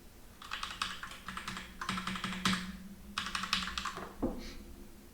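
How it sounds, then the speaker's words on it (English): Fingers typing on a computer keyboard in quick irregular bursts of clicky keystrokes, close and fairly quiet, with short pauses between flurries and a sharper single key tap near the end. "I can't type with this keyboard"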